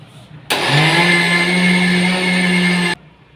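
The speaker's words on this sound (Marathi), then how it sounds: "एकत्र असा हा मिक्सरला फिरवून घ्यायचा आहे" A mixer grinder whirs loudly at high speed for a couple of seconds grinding Maharashtrian black garam masala spices, a steady motor whine that starts and stops abruptly.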